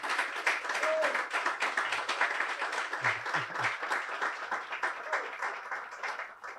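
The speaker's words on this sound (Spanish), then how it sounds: "quisiera un fuerte aplauso hacia el doctor" Sustained, dense applause from a crowd honouring Dr. Samuel Silva Gotay at a Protestant Reformation Day gathering, steady clapping filling the whole stretch with only faint voices beneath.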